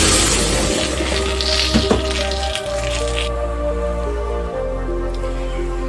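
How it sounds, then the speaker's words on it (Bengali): Lentil dal is poured into a hot pan of panch phoron tempering, giving a close, wet sizzle with squishy bubbling and spatter that settles into a steady low simmer. "এবার ডালটা ঢেলে দেব"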